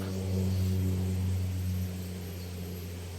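Helicopter-like engine drone with a steady low, tonal hum, loud at first and then easing slightly after about two seconds, heard alone without talk.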